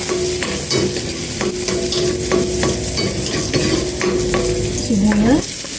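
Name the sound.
sautéing garlic in a pan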